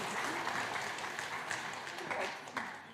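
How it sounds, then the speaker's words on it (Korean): Congregation applauding right after an infant baptism in a Sunday worship service, a continuous dense patter of many hands, even and sustained, heard from a distance at modest level with faint voices underneath. "박수 부탁합니다."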